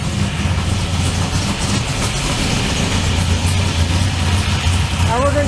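An engine fitted with a 4150 carburetor running on E85 idles at the bench during tuning: a loud, continuous low drone with steady rumble throughout, no breaks.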